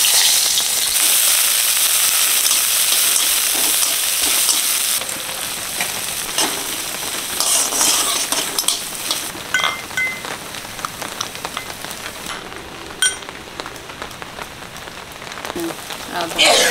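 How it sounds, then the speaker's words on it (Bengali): Shrimp hitting hot mustard oil in a pan, a loud, steady sizzle and crackle that spreads across the clip, with a brief lull partway through before the hiss picks back up, no talking over it. "প্রথমে সর্ষের তেল দিয়ে দিচ্ছি, চিংড়ি মাছটা ভেজে নেব।"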